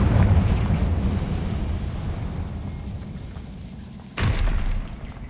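Confringo fire spell exploding in the Hogwarts Legacy video game, a deep sustained rumbling blast that fades, then a second sharp boom near the end.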